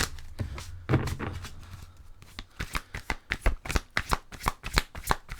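Oracle cards riffled and shuffled by hand for a tarot reading, a run of crisp, rapid slapping flicks, dense at first, then a quick sequence of distinct card snaps close up, with no talking.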